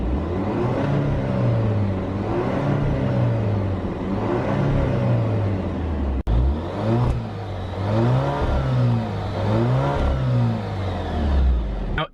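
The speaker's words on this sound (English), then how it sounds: "let's give her a little gas so you can just see where she stands as far as her exhaust note goes" A 2019 Alfa Romeo Stelvio Sport, Nero Edizione in black, revs through repeated throttle blips, its loud close exhaust note rising and falling in steady swells with a brief cut near the middle.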